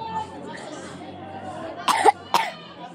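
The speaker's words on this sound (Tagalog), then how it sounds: "Ubo, ako lang ubo." A person coughs twice in short, abrupt bursts after a stretch of quiet talk and background murmur indoors.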